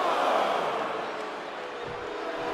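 A crowd cheering in the WWE 2K23 wrestling game during a match, a dense, steady roar of many voices that swells slightly at the start and stays loud throughout.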